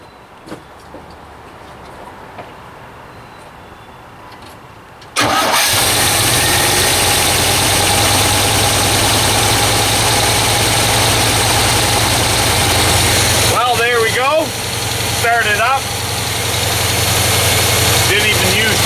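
A Chevrolet Suburban engine cranks and fires on a near-freezing day, then settles into a loud, steady idle that continues to the end, with someone talking briefly over it.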